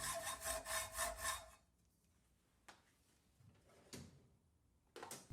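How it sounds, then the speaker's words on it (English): A hacksaw cuts through metal clamp stock in a workshop, a quick run of rhythmic rasping strokes, then a few scattered scrapes and knocks from handling the work, all at close range. "I'll start with the hacksaw."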